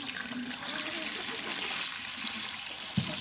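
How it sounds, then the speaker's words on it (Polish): Water poured into a cleaned chicken drinker at a backyard poultry run, a steady trickling stream running for several seconds at moderate level with no talking. "teraz nalejemy kurą wody"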